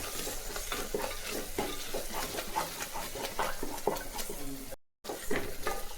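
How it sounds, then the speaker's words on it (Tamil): Ginger and garlic sautéing in ghee in a pan, with a constant sizzle under repeated stirring scrapes and utensil clatter, followed by a brief dropout. "இஞ்சி பூண்டு நல்லா வதங்கிடுச்சுங்க."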